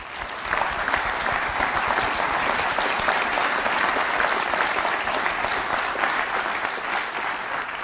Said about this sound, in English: please, a round of applause for those who really have been working hard at this.